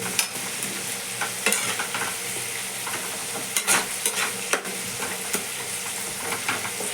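A spice paste of chilli and mustard powders fries in a pan for a bitter gourd dish, a steady close sizzle broken by frequent scraping stirs of a spatula, with no voices.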